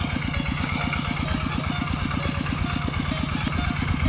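An engine-driven water pump fills a rice paddy with a steady, loud mid-pitched chugging idle, its rapid even pulses running unbroken from start to finish at close range.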